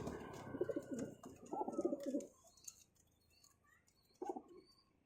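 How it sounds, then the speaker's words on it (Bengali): Domestic pigeons of an old bloodline cooing close by, two rolling coos in quick succession, then quiet with faint background noise, then another short coo at the end. "ওল্ড ব্লাড লাইনের পায়রা"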